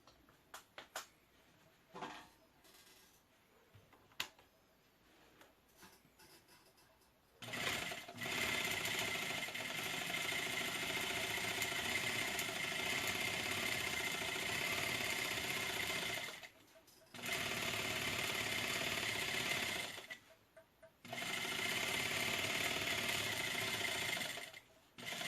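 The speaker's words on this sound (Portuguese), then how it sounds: "E nós vamos dar início à costura, passando bem em cima do giz." A sewing machine stitches along a chalk line while sewing a fabric bread holder, running steadily in long, loud bursts with two short pauses between them, after a quieter stretch at the start; no one speaks.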